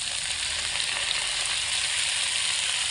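Chopped onions hitting hot oil with frying garlic, a loud, dense, continuous sizzle heard up close and alone, with no voices.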